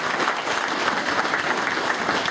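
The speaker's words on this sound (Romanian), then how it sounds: "vreau să vă invit să-l aplaudăm pe primarul nostru, pe Mitică Robu" An outdoor audience at a village day celebration in Gologanu applauds the mayor, a loud dense patter of many hands that stays even and unbroken throughout.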